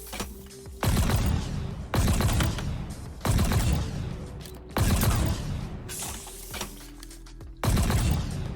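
Ravager pulse weapon in Halo Infinite, firing in five loud bursts about a second and a half apart. Each is a crackling, sizzling salvo with short quieter gaps between.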